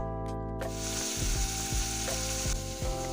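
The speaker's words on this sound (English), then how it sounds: "So I'm just stir frying them now, the onions" Onions sizzle and crackle steadily in hot oil, with repeated scraping stirs every half second or so, loud and close.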